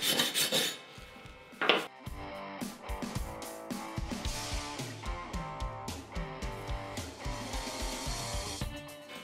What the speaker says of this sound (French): J'utilise le marteau à piquer pour enlever le laitier et la brosse pour nettoyer le cordon.